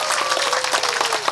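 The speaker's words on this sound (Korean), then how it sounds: "박수 한번 쳐주십시오" Applause from a congregation at an outdoor Monday Mass, a dense burst of clapping that stays steady throughout the short stretch.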